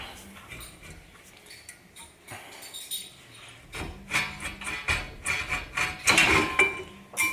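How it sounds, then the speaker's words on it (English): A stuck brake caliper on a Subaru BRZ / Toyota 86 (FRS) is pried and pulled off its disc, giving scattered metallic clicks, scrapes and clinks that grow louder and busier toward the end, close and with no voices. "the caliper is still stuck on the disc, but if you pull it, it'll come off"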